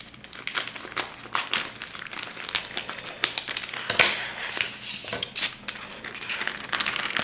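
A plastic package of corned beef is cut open, giving close, crinkling and rustling plastic sounds with short snips and tearing bursts, alone and fairly quiet.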